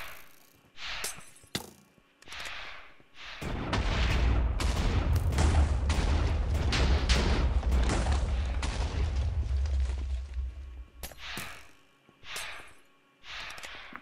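In the Minecraft Hexxit mod, fire grenades go off with a few sharp blasts, then a loud rumbling barrage of explosions that lasts several seconds before breaking back into scattered bursts.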